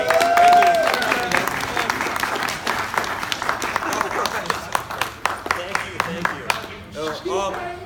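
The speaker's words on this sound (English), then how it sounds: "Everybody give a big round of applause for Pat," A live-show crowd gives loud, sustained applause with cheers, gradually thinning into scattered claps while voices and talk carry through underneath.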